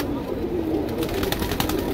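Sharangpuri pigeons, heavy birds kept at a breeder's home in Kurla, Mumbai, coo in a low steady murmur throughout, with faint clicks and rustles near the end.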